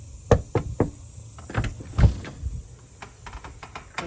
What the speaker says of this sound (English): So we start with just knocking on the door